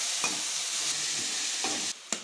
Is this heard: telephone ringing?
no